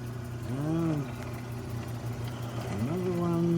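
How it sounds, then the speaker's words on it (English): A metal lathe runs with a steady, low mechanical hum throughout, while someone talks briefly over it. "Another lathe here."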